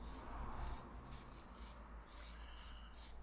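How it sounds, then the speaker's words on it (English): A spray can of clear lacquer hisses onto a woodworking piece in a series of short, sharp bursts, about seven quick puffs with brief pauses between, close by and fairly loud. "I'm just giving it a bit of a spray, clear lacquer"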